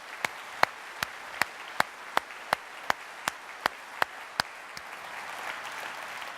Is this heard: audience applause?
yes